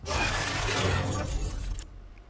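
A harsh, noisy call from the Nyctoxon creature in the game Creatures of Sonaria roars for about two seconds, then cuts off abruptly, with a low rumbling tail underneath.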